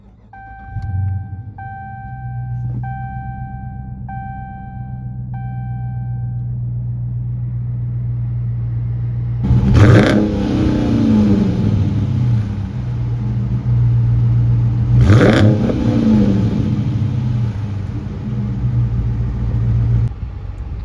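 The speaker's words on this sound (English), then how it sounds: "So let's turn on the car and listen to it." A 2023 Dodge Charger R/T starts with a whirring crank, settles into a steady low idle, then revs loudly twice, each rev swelling and falling back, heard close up with a chime beeping early on.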